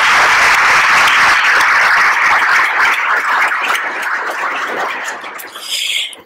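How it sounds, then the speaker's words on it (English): Conference audience applauding at an environmental monitoring gathering, a dense, steady wash of many hands clapping that stays loud and full, easing slightly toward the end, with no voices over it. "I just wanted to give them a round of applause"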